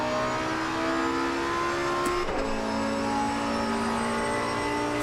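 A GT2 race car engine in Assetto Corsa Competizione revs steadily and loudly, its harmonic whine holding pitch, dipping briefly mid-clip during a gear change, then climbing again, with no talk.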